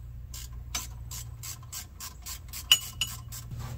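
A power steering pump comes off a 1964 Ford 390 FE engine in a Country Squire, heard as a steady run of quick ratchet clicks in even bursts over a low hum, with a couple of sharper metallic ticks near the end.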